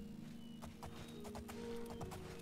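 A horse in the Oblivion video game makes clip-clopping hooves, a series of soft, evenly spaced thuds. A brief whinny sounds under a steady, low game music bed.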